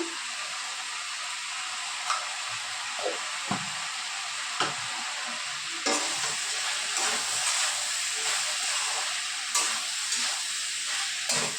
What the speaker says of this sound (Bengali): সবজিগুলো ভাজা ভাজা হয়ে গেছে।